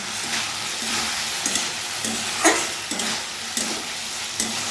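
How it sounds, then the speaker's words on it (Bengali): Steady close sizzling of bottle gourd curry with fish head cooking in a pan, with periodic scrapes and taps of a stirring spoon. "আর এখানে লাউ তরকারি হচ্ছে"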